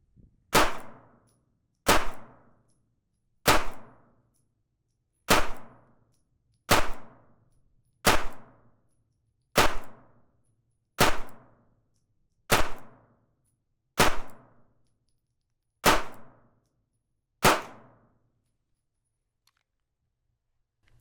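Twelve sharp shots from a Springfield Armory Hellcat .380 pistol, fired singly at a steady pace about one and a half seconds apart, each a loud crack with a short tail, with a quiet gap before the last.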